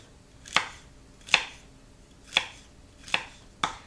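A knife chops through strips of white bread on a cutting board, giving five crisp, evenly spaced thuds close to the listener, with quiet gaps between strokes and no talking.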